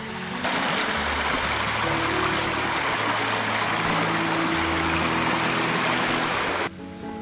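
A mountain stream and waterfall on the Sagargad trek rush steadily, a loud, dense, unbroken wash of falling water heard close by.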